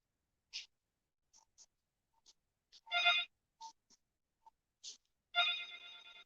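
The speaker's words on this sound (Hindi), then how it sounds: "ये फोन आ रहा है" A phone ringtone chirps in short electronic bursts with pauses between them, two longer warbling rings standing out, fairly clear in a quiet room.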